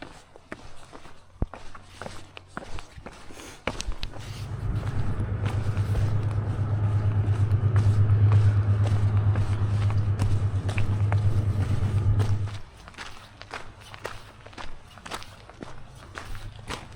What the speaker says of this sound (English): There's really not much of a shoulder, so cars kind of whiz right by